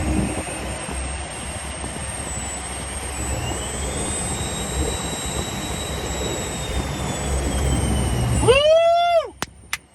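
Twin jet engines of a Learjet 60 roaring steadily during a high-power ground run, loud and sustained, then spooling down with falling whines near the end.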